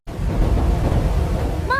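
Big storm over the Pacific Ocean with thunder, rain and wind, a dense, loud roar of rumbling and rushing noise filling the short clip from start to finish.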